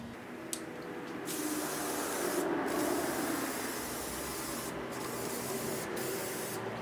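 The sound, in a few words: spraying spray shellac wood finish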